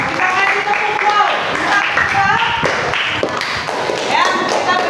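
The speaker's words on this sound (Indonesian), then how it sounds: "beri tepuk tangan" A classroom audience in Indonesia claps in applause for a presenting student group, a steady dense patter of hands running throughout with voices chattering over it.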